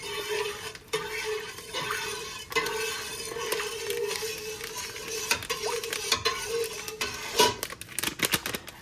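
SureJell pectin is stirred into a redbud jelly mixture in a pot, with a spoon scraping and clicking against the sides in an uneven rhythm and the liquid swishing softly underneath. The sound is close and moderately quiet, with no talking.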